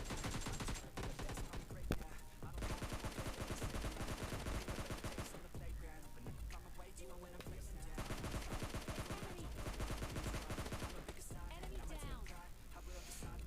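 Gunfire in the mobile shooter PUBG Mobile Lite: bursts of automatic and single shots crackle densely across the whole stretch, mixed with busy game sound and loud, continuous action.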